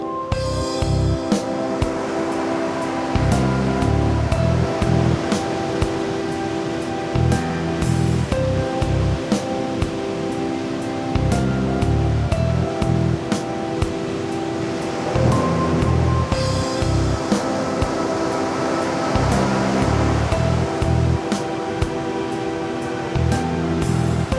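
Ocean waves and surf rolling onto a Costa Rica beach, a steady loud wash of broken water with swelling surges that rise and fall every few seconds, no voices.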